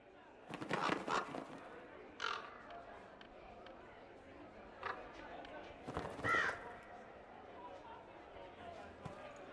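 Crow-like caws from birds in the Dragon Age Inquisition game world, a few short calls near the start and again midway, moderately close over a low ambient bed.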